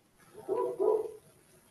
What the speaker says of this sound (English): my dog's outside barking